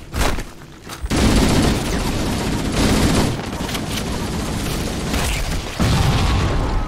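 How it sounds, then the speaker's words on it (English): Grenade explosions and bursts of gunfire in the game Halo: CE form a loud, nearly unbroken barrage of booms and rapid shots that runs for the whole stretch. "I hate that those things set off grenades"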